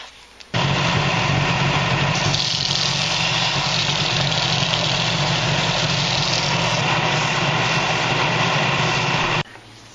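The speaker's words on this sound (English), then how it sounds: "we sanded the surface of the jig and made it really flat" A power tool sands the surface of a plexiglass fishing lure jig, its motor starting abruptly, whirring loudly and steadily for about nine seconds, then stopping.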